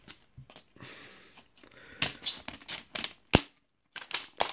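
Scissors snip through Pokémon card blister packs with crisp, irregular cuts and plastic crinkles, a close series of sharp clicks and rustles separated by brief pauses.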